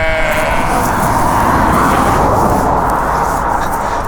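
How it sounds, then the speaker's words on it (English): Sheep bleat in a field beside a loud, constant rumble of road or vehicle noise, and a drawn-out bleat stands out near the start. "Sheep in the field."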